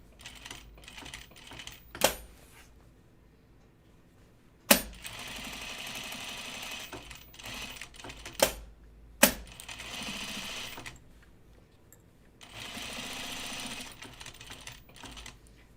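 A sewing machine stitching along the welt of a blazer, running in short quiet bursts separated by pauses and sharp clicks, close and faint.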